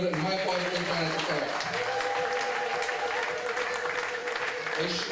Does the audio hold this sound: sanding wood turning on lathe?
no